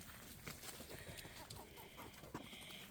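Hens clucking and murmuring nearby on a homestead, a steady busy chatter of short soft calls with a few sharper squawks.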